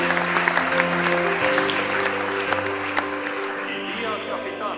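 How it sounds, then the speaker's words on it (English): Applause for doctoral graduates at TalTech's 107th anniversary academic ceremony: a hall audience claps steadily throughout, blended with sustained tonal music underneath. "Let's also give a big round of applause to the doctoral colleagues who were not able to attend today."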